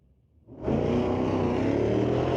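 A Dodge drag race car launches wheels-up at a door-car drag race, its engine erupting after a brief quiet into a sustained, loud, roaring blast that holds steady and close.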